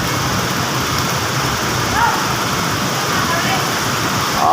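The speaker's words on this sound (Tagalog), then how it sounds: "Oh, lakas po ng ulan." Heavy rain in the Philippines pours down in a dense, constant hiss that fills the whole clip, heard from under a shelter, with brief faint voices barely audible through it.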